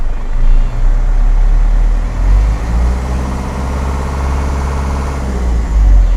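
Isuzu NPR150 truck with a 4HK1 diesel engine heard from outside, revving up into a rough, loud rumble that holds steady and swells again near the end.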